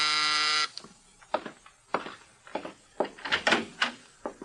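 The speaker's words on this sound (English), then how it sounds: "Now Mike is in his apartment when the door buzzer sounds." A door buzzer in an old-time radio drama rings out loud with a steady electric buzz for under a second, then a voice and other voices carry on talking.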